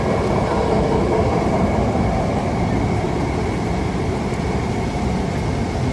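A light rail (LRT) train rumbles past with a steady, loud roar and clatter that holds constant throughout, close to the listener, during heavy rain.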